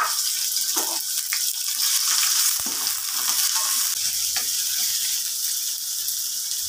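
Liver sizzles steadily in a frying pan for a menudo dish, a dense continuous hiss with a few scrapes and clinks of stirring throughout, close and fairly loud with no talking.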